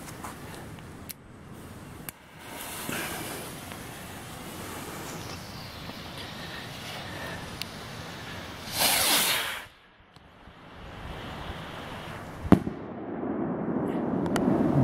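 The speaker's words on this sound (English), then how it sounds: "Today we're going to try out this mystery rocket and see what she does" A mystery firework rocket launches with a rising whoosh and hiss, followed by bursting explosions and crackling outdoors, with sharp pops and a loud roaring burst near the middle and scattered bangs later, no talk.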